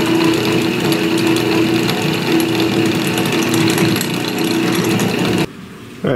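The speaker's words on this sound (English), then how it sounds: "Alright, motor's back on." The motor of a restored 1930s Delta DP220 drill press runs with a loud, steady mechanical whir and a rapid rattling pulse, stopping abruptly just before the end.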